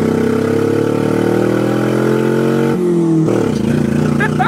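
A Nissan S12 200SX turbo engine runs steadily after an unplugged injector is reconnected, a loud, continuous mid-pitched drone whose pitch dips briefly near the end, with voices murmuring over it.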